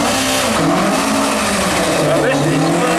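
A car with a 16-valve Chevy Vega cylinder head runs at the Brighton Speed Trials, its loud engine droning and shifting pitch as it revs and pulls away, with some talk over the noise.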